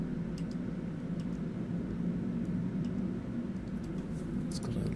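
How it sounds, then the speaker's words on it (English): Airplane passing overhead outdoors, a steady low broadband drone that holds at a constant level throughout, with faint clicks from a tabletop game in the foreground. "there's a plane passing overhead."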